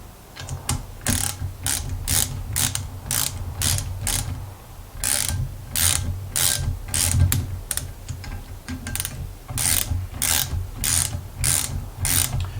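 A ratchet tightening conrod bolts on a Holden red six engine, rapid loud clicking in bursts with brief pauses between strokes, close and alone without talk.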